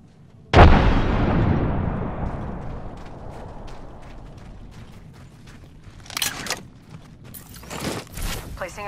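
A frag grenade detonates in the Apex Legends battle royale game, one sudden loud booming blast followed by a long rumbling decay, then scattered clicks and sharp bursts of gameplay noise.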